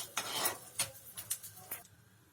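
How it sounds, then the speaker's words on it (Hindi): Edible gum (gond) roasting in a pan, crackling and popping in a few sharp bursts alongside clinks of a utensil against the pan, fairly faint and close. "देखिए गोंद में भून रही हूँ, लावा की तरह फूट रहा है।"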